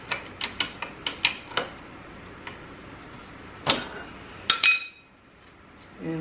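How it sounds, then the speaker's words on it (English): A wrench works the lower ball joint nut on a Yamaha Blaster YFS200 ATV. It gives a quick series of close metallic clicks, a few sharper clinks later and a brief clunk near the end. "But I'll just use this presser wrench."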